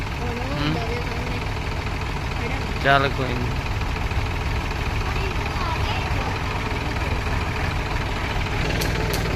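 A Mahindra 265 tractor, stuck in mud while hauling soil, runs with a steady low diesel idle throughout while people talk over it.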